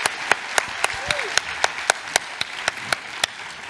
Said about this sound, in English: if we can just have a round of applause for Rachel, Tamina and Carly.